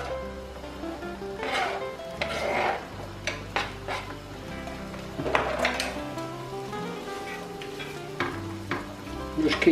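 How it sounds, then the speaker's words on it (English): Onions frying in a pan for a cottage pie give off a steady, close sizzle, broken by repeated scrapes and clinks of stirring, with soft tonal background music underneath throughout. "Now fry off the onions."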